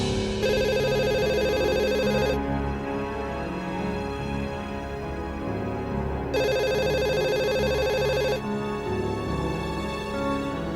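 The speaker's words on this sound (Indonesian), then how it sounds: "Suara telepon." A telephone rings late at night, two long bursts of bright electronic ringing separated by a pause, steady and moderately loud with no voices.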